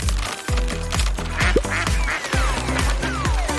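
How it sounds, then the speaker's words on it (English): Small electric toy ducks quacking in a bouncy, repeated rhythm over steady music, with squeaky pitch slides scattered throughout. "They're cute little electric ducks."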